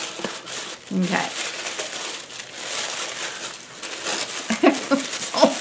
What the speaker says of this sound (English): A lot of tissue paper.